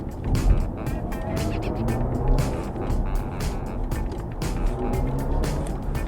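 A BMW i7 M70 electric car accelerates hard on the road, a steady whirring rush of motor and tire noise rising and holding for several seconds without voices.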